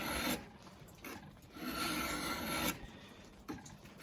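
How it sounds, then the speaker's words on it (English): A sharp hand file rasps along the annealed steel bevel of a rifleman's knife blade in long, steady back-and-forth strokes, about four close, gritty passes with brief pauses between them and no talking. "if you've got a good sharp file and that steel is well annealed, you don't have to work real hard"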